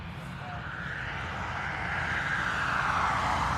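A jet airliner roars steadily at Dublin Airport, a broad, loud rushing rumble that swells slightly as it passes, with a voice talking faintly underneath.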